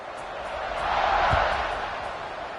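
Football stadium crowd at an Ole Miss vs Clemson game roars steadily at kickoff, a broad continuous swell that builds toward the middle and eases off, with a brief low thump partway through.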